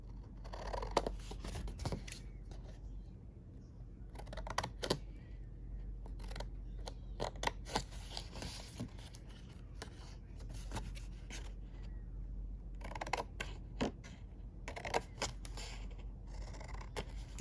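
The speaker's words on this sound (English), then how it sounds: "cut a little piece out" Scissors cut a small piece out of paper for a mini craft box, giving soft close snips and scrapes in scattered bursts over a steady low hum.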